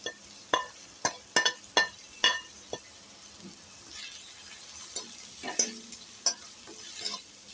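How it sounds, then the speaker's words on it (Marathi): Spices being stirred into masala pasta in a pan: a series of sharp spoon clinks and scrapes against the metal, rapid at first then sparser, over a low background sizzle. "तर आता ह्याला ढवळायचं आहे छान आपल्याला मसाल्यांना"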